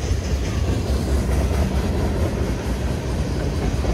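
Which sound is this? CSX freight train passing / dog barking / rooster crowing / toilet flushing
CSX freight train passing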